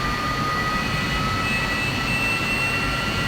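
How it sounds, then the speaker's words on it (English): A Hawker Sea Hawk jet engine in a flight simulator drones continuously with a loud, steady roar and thin whining tones drifting slightly in pitch, with no other sounds. "I'm not sure why that engine is still going up and down."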